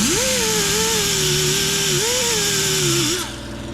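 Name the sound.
sanding an old Holley carburetor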